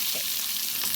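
Onion and green chili fry in hot oil with a loud, continuous close-up sizzle and faint stirring, lasting about a second with no voices.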